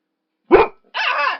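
A dog gives two sharp, loud barks close by, a short one followed by a longer, drawn-out one, with no talk over them.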